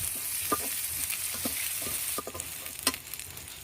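Khichuri ingredients fry in a pan with a soft constant sizzle while a spoon stirs them, scraping and clinking in uneven strokes, quiet and close with no talking.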